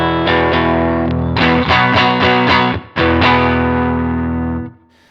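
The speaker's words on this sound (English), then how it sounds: "Here's that distortion on." Heavily distorted electric guitar through a distortion pedal on a Helix patch, playing sustained chords with a few rhythmic chugs and a brief break, loud and saturated, ringing out at the end.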